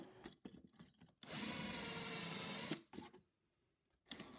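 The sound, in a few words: 3.5mm drill drilling holes into metal plate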